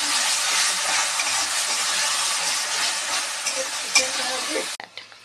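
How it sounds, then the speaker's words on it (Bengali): A spice paste frying in hot oil for a lightly spiced Bengali meat curry crackles and hisses loudly and steadily up close, with a stir-scrape near the end before the sound drops away abruptly. "মশলাটা দিয়ে হালকা করে এই তেলের মধ্যে ভালো করে ভেজে নিতে হবে।"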